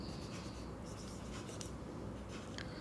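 Pen or pencil writing on paper during a geometry lesson, a soft continuous scratching that is very faint and close, with no talk.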